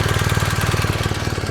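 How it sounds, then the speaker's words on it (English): A BMW R1250GS motorcycle engine runs at a steady idle with a fast, even low throb and a rough mechanical chatter, loud and close with no voices over it. "Let's just bring the bike to life. Start her up"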